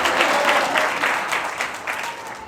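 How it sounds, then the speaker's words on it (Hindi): Applause from a church congregation during a sermon, a dense sustained clapping that swells and fades slightly, fairly loud and close, with no talk over it. "जोरदार तालियां बजाया करें।"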